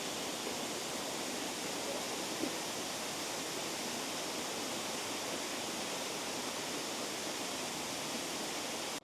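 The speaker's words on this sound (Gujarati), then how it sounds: "તો બસ આ છે ધોધ જુઓ નિહાળો શાંતિથી થોડી વાર" A waterfall in the USA, with ice frozen over its top, roars in a steady, unbroken rush of water that fills the whole scene.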